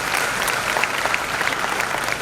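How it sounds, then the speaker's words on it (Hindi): An audience claps for a parent at a talk, producing steady, dense, fairly loud applause that carries on without pause and has no speech over it. "जरा ताली बजाओ उनके लिए।"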